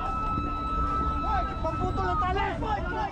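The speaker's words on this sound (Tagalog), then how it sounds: "habang umaalingaw ang malakas na sirena" A loud siren wails steadily, its pitch rising and falling, over engine rumble and a babble of voices, at sea near Ayungin Shoal as Navy inflatable boats approach the BRP Sierra Madre.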